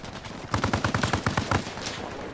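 Rapid machine gun fire from a Huey helicopter in a video game, a steady rattling burst of about a dozen evenly spaced shots, loud and close, then trailing off into background rumble.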